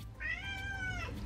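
House cat gives a single clear, drawn-out meow lasting about a second, close and distinct over a quiet indoor background.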